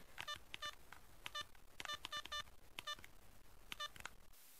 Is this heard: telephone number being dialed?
yes